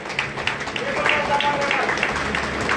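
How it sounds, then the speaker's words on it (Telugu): A crowd at a felicitation meeting claps, a moderately loud patter of many hands mixed with voices and crowd noise throughout. "అందరూ గట్టిగా చప్పట్లు కొట్టాలి"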